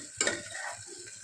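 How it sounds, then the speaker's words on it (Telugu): A mutton tempering is stirred inside a pressure cooker for Telangana-style mutton paya. One sharp metallic scrape comes first, then softer stirring and faint sizzling, quiet and close. "చూద్దాము అంతా ఒకసారి బాగా కలుపుకుందాము"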